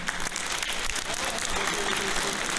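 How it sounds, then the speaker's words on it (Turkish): Audience applause at a Turkish shepherds' competition award ceremony, a steady wash of clapping that fills the whole stretch at moderate loudness. "Kocaman alkışlarınızla"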